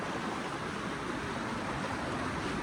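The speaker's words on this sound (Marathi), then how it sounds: "दाखवते चिंकू पिंकूचा धबधबा" A waterfall's constant rushing roar, an even wash of noise that holds steady from start to finish with no voices.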